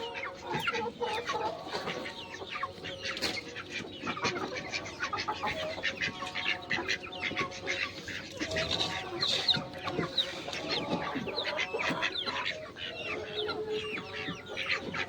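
Many caged chickens clucking and chattering together throughout, a busy continuous flock sound with overlapping calls at close range.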